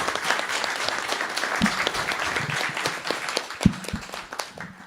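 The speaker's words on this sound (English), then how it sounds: "Let's give her a round of applause" Audience members at a school board candidate forum clap for the moderator, a moderately loud, scattered round of applause with a few sharp claps standing out.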